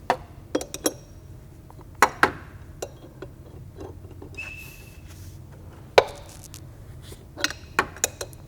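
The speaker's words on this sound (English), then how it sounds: "you'll eventually hear a pop like we just heard, and that's going to be the pulley starting to move" A wrench working on the supercharger pulley of an Audi B8 3.0T, giving scattered sharp metallic clicks and knocks with one distinct louder pop partway through, close up in a quiet workspace.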